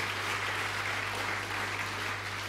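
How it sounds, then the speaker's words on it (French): A church congregation applauds during a sermon, a steady, dense wash of many hands clapping together, moderately distant and unbroken throughout, with no speech. "Applaudissons pour le Seigneur."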